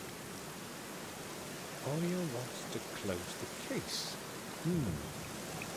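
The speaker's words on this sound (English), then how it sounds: "it's raining now" Steady rain hisses evenly in a video game, The Black Mirror, a constant soft wash that runs under a man's speech throughout.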